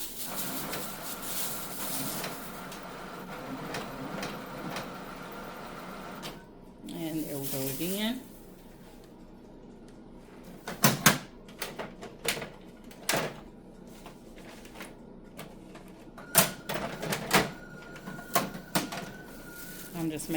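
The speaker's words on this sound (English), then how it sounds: "I just chose to print it again." An HP OfficeJet printer feeds and prints a transfer sheet, giving whirring, shuttling mechanical bursts and clicks that come and go, close by, with quiet gaps between runs.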